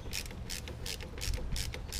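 A ratchet clicks steadily in quick repeated bursts while tightening bolts on the AC compressor of a 2010 Mazda 6, close up and fairly quiet, with no talk.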